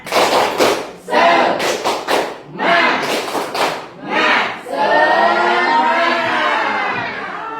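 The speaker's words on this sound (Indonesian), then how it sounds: "Tepuk semangat" A classroom of pupils does a rhythmic spirit clap: loud, close bursts of unison clapping in a steady pattern, then the group breaks into a sustained chanted shout together.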